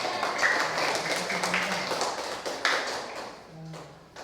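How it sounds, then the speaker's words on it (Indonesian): Classroom applause for a student group after presenting discussion results: a small group of students clapping near the mic, uneven and fairly loud, fading toward the end with a short murmur of voices. "Ya, tepuk tangan buat Rahmat."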